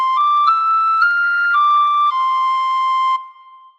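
A tin whistle plays a phrase of the Star-Spangled Banner, clean bright sustained notes stepping up and then back down, each held about half a second, with the last note trailing off into silence.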